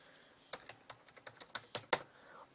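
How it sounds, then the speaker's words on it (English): Typing on a computer keyboard while a password is entered: about a dozen separate, crisp key clicks in an uneven rhythm, close and fairly quiet, with no voices. "I'm going to type in my password"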